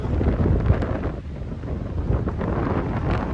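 Strong wind buffets the microphone in heavy low rumbling gusts, continuous and close, with no voices, by a river in Salyan, Nepal.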